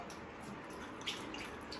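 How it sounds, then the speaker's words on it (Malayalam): Light water droplets sprinkled onto steamed idli, pattering and dripping soft and close, with a faint steady background hiss and no voices. "പിന്നെ ഇഡലി വെള്ളം തളിച്ചു കൊടുക്കണം"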